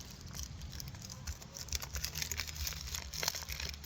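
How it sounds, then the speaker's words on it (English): Rain falling on a garden where herbs are being planted in zone 7b/8a, a close, steady patter and crackle of drops on surfaces, fairly faint and continuous, with no talking. "Listen to that. Isn't that a welcoming sound? We need rain so bad, you guys."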